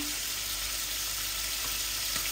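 Chili powder and turmeric fry in hot oil in a pan, making a continuous close, even sizzle that holds at a steady level throughout with no voices.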